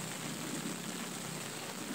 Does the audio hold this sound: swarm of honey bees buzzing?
no